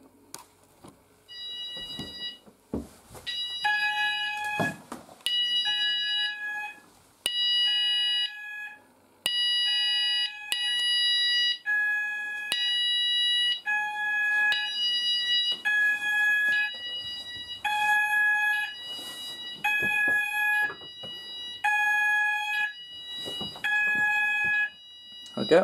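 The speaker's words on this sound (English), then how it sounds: "I'm going to set it to alert tone so you might be able to hear it." An Apollo XPander fire alarm system sounds its alert tone, a loud repeating electronic beep pattern of alternating high tones in short bursts, continuing for about twenty seconds after a few handling clicks.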